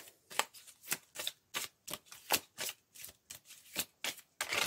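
Oracle cards shuffled for a reading, a steady run of about a dozen crisp riffling bursts at close range, each a sharp papery rush with short gaps between, and no voices.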